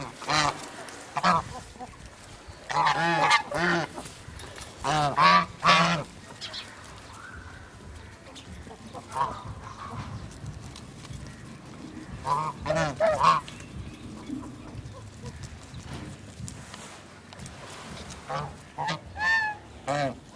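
Ducks and geese feeding in a village during a morning routine, giving loud bursts of honking and quacking that come and go, with a person talking now and then.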